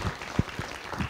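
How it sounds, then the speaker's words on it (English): Conference audience applauding at a regional water, energy and food nexus dialogue, a brief, sparse burst of claps with a few distinct louder hits rather than a sustained ovation. "I want to give a round of applause."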